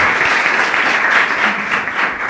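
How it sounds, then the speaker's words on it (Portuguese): Applause during a church service, a dense and even wash of many hands clapping, loud and sustained throughout with no voices standing out. "Palmas para o nosso Senhor"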